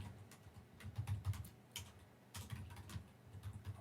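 Rapid, uneven keystrokes on a computer keyboard, close and quiet, in short bursts with brief pauses and no talking.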